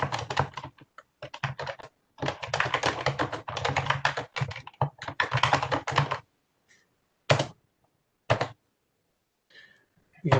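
Rapid typing on a computer keyboard, dense bursts of close, crisp key clicks in runs of a second or two, then a few isolated single taps after a pause.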